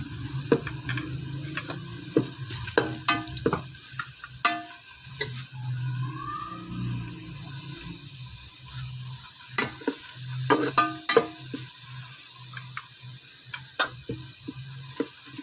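Onions frying with whole garam masala for chana pulao, a steady low sizzle broken by scattered sharp ticks and scrapes of a spoon against the pot, close by, with no voices.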